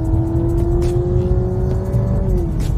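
A Honda Civic hybrid car restarting its engine, a close, steady hum with a sustained whirring tone that holds for about two seconds and then drops in pitch, heard without any talk.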